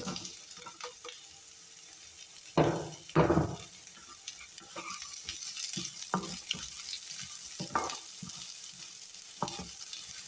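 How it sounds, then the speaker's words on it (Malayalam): Chopped onions hit a pan of browning coconut pieces for a papaya coconut-milk curry, giving a steady close sizzle with several louder bursts and scraping stirs, no voices. "ഇതിലേക്ക് നമുക്ക് അരിഞ്ഞു വച്ചിരിക്കുന്ന സവാള ഇട്ട് കൊടുക്കാം"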